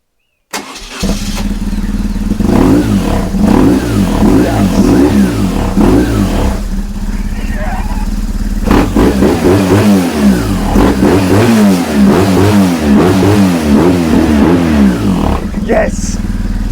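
A high-mileage BMW 1150GS motorcycle engine cranks and catches, then idles loudly and close with repeated throttle blips and revs rising and falling, and a person speaks over it.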